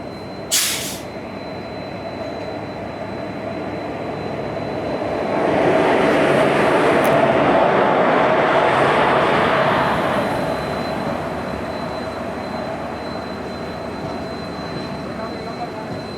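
A Jan Shatabdi express with ICF coaches rolls slowly into a station, a broad rumbling swell that builds, holds for several seconds and then fades, with a brief sharp hiss near the start.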